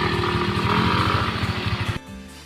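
A motorcycle engine runs close by with a steady, loud, throbbing putter, then drops sharply to a lower idle near the end.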